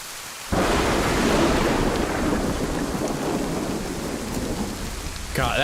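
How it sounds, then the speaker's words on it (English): Thunder crashing during rain in the video game DayZ, a sudden loud roaring rumble that bursts in and slowly rolls away over steady downpour, close and heavy, with no talk. "that thunder's really fucking with me"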